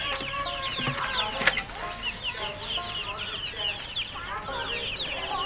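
A flock of tiger chickens on a poultry farm clucks and chatters in overlapping bursts, busy and fairly close, with a voice talking faintly in the background.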